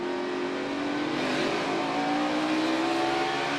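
NASCAR Cup Series race cars at the Save Mart 350 pass slower cars on track, V8 engines revving in a continuous high whine with shifting pitch, loud and close.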